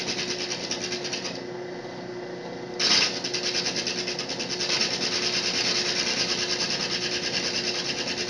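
A drill press with a bit cutting a hole in aquarium glass, giving a steady close grinding hiss with a faint high whine, a short burst of sharper scraping midway, then continuing evenly without speech.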